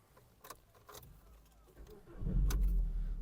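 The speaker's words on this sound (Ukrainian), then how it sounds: "Двигун запускається чудово." A used Volkswagen Golf 4 with 217,000 km starts up: faint clicks and key jangles come first, then the engine catches and settles into a loud, steady idle close by.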